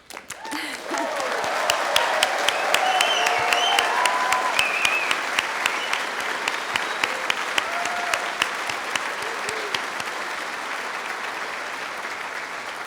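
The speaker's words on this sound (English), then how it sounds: "show your enthusiasm, and cheer for your new graduates" An auditorium audience at a university health faculty spring convocation applauds and cheers for new graduates, a loud, sustained burst of clapping with scattered whoops that slowly thins toward the end.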